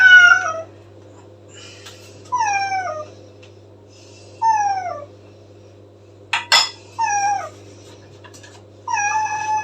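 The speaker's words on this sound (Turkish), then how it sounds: "Bütün kediler mutfak camından girer." Cats meow outside a kitchen window, a series of drawn-out, rising and falling cries repeated about every two seconds, close and loud over a low steady hum, with one short sharp knock midway.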